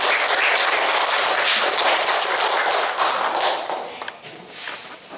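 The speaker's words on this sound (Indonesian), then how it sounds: "Tepuk tangan untuk semangat Anda." An audience claps their hands at an Indonesian-language lecture, dense steady applause that thins and tapers toward the end, with a few separate claps standing out.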